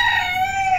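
A Buff Bantam chicken gives a short, close, steady vocal call, loud and alone with no talk.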